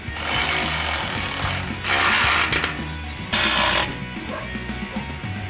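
Bolts being tightened on stainless steel bracket fittings for a traction board holder on a 4WD give a loud, grinding mechanical whirr that surges twice in longer bursts over a steady busy background.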